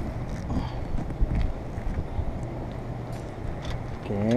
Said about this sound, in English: So it's windy, so I gotta get careful today.